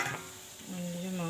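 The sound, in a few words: meat being stir-fried (kosha) in a pan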